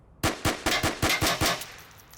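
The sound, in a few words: rifle gunfire in the VR game Onward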